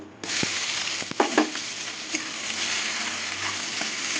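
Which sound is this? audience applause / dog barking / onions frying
onions frying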